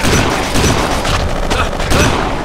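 Heavy gunfire rattles through a Kane & Lynch 2: Dog Days firefight. Dense, loud bursts of shots overlap continuously with no pauses and no speech.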